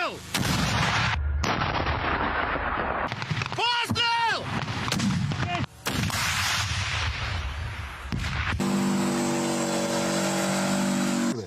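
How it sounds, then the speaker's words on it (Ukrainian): Loud booming gunfire bursts amid heavy rumble and mechanical noise, with several sharp blasts across a chaotic, noisy stretch. "Постріл!"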